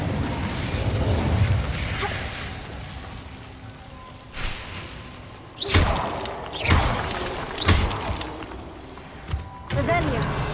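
Fire spell effects in the Hogwarts Legacy video game: several sudden whooshing bursts and crackling flare-ups land one after another over a rumbling ambient background, with a voice calling out spell names between them.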